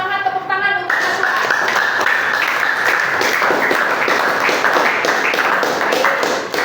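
A school class applauding a student, loud close clapping that starts after a brief voice and continues steadily as a dense round of many hands.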